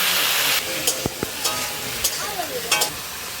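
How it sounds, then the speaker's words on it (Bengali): Teasel gourd (kakrol) fries in a pan with a loud, steady sizzle and hiss, broken by a few scraping stirs and clinks close by. "এদিকে কাঁকরোল ভাজা"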